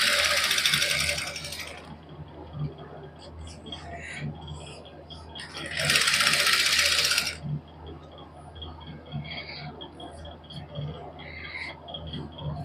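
A sewing machine stitches along the edge of a salwar in two short, separate whirring bursts. Quieter handling noises and small clatters fill the gaps between them, close by.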